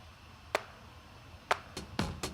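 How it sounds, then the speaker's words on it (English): Five sharp, bright claps spaced unevenly across a couple of seconds, fairly quiet and isolated against a faint low background. "I had like a clap in the final part of the chorus."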